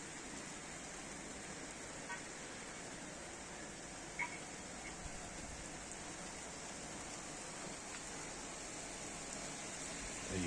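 Steady winter rain in Wadi Al-Arabiyat, a soft continuous hiss of drops falling on surfaces, faint and even throughout, with a few brief louder taps.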